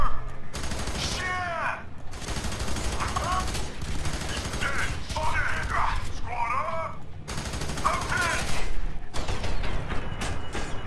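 Dense, continuous gunfire fills a firefight in the first-person shooter F.E.A.R., loud and sustained from start to finish, with a few brief gaps and scattered game effects over the volley.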